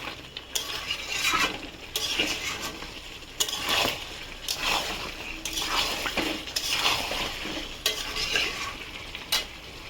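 Mutton being sautéed for kosha in a pan, with repeated spatula strokes scraping and clattering against the metal over a low sizzle, close and rhythmic, without speech.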